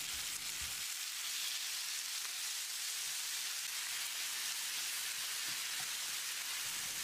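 Steady broadband sizzling of chopped tomatoes with salt frying in a hot pan, continuous and fairly close, with faint occasional stirring knocks and no talking.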